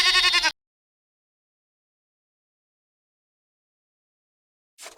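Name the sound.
sheep bleating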